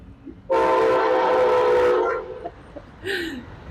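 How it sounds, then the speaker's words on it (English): A train rumbles past loudly for about a second and a half with steady horn-like tones over the noise, then fades, followed by a brief rising call near the end. "I will not outcompete the train."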